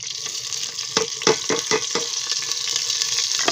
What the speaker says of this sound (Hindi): जब भी मैं ये डालूंगी मसाला ना बहुत शोर करेगा।